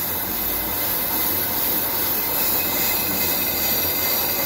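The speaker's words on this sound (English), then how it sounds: "removing the variations in thickness and run out from this rotor" Steady grinding noise with a continuous high metallic whine from a decades-old Ammco bench brake lathe resurfacing a brake rotor, loud and close, no pauses over a few seconds.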